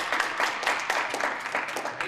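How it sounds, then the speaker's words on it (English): Students at a town hall meeting of a student senate clap together in a short, dense round of applause that fills the room for about two seconds. "So give yourselves a round of applause for that."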